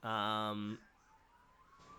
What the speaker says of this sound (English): Oh, there's some sirens.